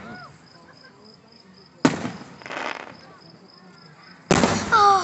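Fireworks explode in two sharp booming bursts with crackling tails, one midway and another near the end, over a quiet night with a faint insect hum and soft voices.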